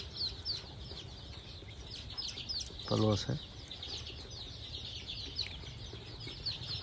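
Around 300 local chicks on a farm keep up a steady chorus of high, rapid peeping and cheeping, with someone talking over them throughout.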